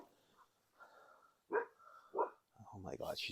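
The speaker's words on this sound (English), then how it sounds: "she's barking at people on the lake" A dog barks at people on a lake in a few short, sharp bursts at moderate distance, with a soft whimper early and a voice talking toward the end.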